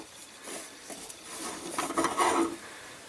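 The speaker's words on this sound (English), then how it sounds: "next thing I think I want to tighten would be this coupling here" A kitchen sink drain pipe coupling is tightened by hand under the sink, giving faint, close scraping and rubbing twists in short bursts that grow a little louder toward the end.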